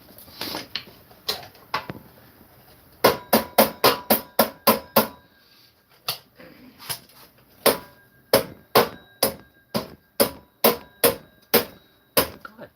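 Hammer blows on a seized part, sharp metallic strikes alone, first a few scattered hits then steady rapid runs of roughly one blow every half second, loud and close.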